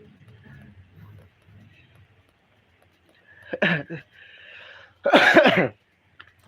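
Someone with a cold gives two harsh, loud coughs close to the microphone, a short one followed by a longer, heavier burst after a quiet pause.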